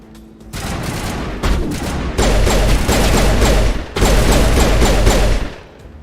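Video game gunfire from Mass Effect Legendary: sustained, loud bursts of rapid shots in several volleys, with brief pauses between bursts and no talking.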